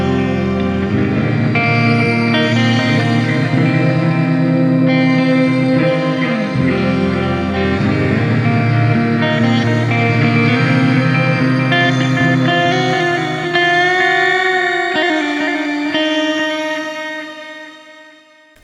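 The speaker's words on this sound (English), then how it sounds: "Let's go all the way for 10 here and do the Shimmer reverb." Electric guitar played through the Shimmer reverb on a Hotone Ampero ONE multi-effects unit, with the mix at 10, sustained chords blooming into a bright, octave-shimmering wash of reverb that rings on and fades at the end, with no voices.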